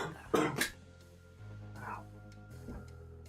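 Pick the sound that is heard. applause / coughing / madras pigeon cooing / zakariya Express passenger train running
coughing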